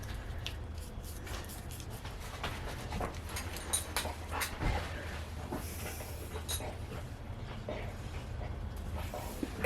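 A dog named Loki pants steadily and whimpers up close throughout, a continuous breathy rhythm broken by thin whines, heard in a yard during a garden statue repair.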